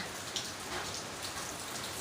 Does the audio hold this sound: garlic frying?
no